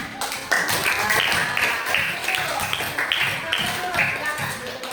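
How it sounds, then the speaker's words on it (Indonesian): Students clapping in a classroom after a presentation on bones, joints and muscles, a dense run of hand claps with irregular taps, fairly close and steady throughout. "Kasih tepuk tangan"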